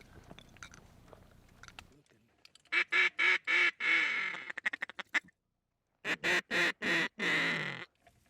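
Loud, close quacking on a calm-water duck hunt, delivered in two rhythmic series of repeated bursts with a short silent gap between them, following quieter background sound.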